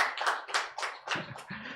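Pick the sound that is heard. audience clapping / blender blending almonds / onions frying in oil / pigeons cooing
audience clapping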